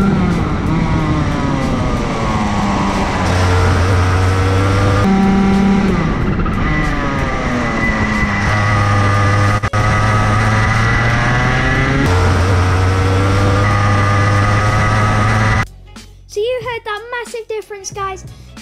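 A go-kart engine drives through a corner in two passes: a loud, close, buzzing whine that rises and falls in pitch as the kart brakes and accelerates, then cuts off before a brief voice at the end.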